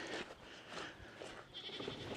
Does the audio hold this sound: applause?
no